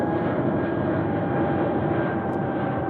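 A Delta Airlines Boeing 737-800 departs Anchorage airport bound for Seattle, its engines making a loud, steady, broadband roar that does not let up.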